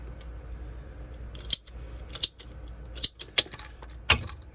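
Pipe cutter wheel scraping around a copper water pipe at a water heater, a series of short sharp metallic clicks and scrapes at uneven intervals, close and moderately loud over a low background hum.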